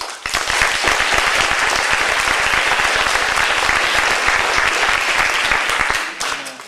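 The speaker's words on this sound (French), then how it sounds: "On applaudit Madame Bond." An audience at an amateur junior theatre show claps loudly and densely for about six seconds, a continuous close burst of applause that tapers off at the end.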